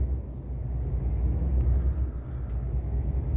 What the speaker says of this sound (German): Den Motor an. Gang rein. Bremse los